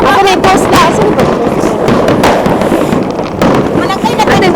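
A public fireworks display in Copenhagen, Denmark crackles with a rapid series of loud booms and sharp pops, some distant and echoing, while spectators chatter close by.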